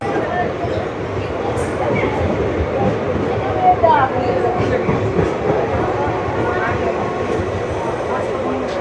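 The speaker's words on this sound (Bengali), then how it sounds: "হর্ন দিয়ে দিয়েছে এবং ট্রেন কিন্তু ছেড়ে এগিয়ে যাচ্ছে লালগোলার দিকে।" A Lalgola passenger train pulls away from a station in Murshidabad with a steady, broad rumble of rolling carriages, and a voice talks over it.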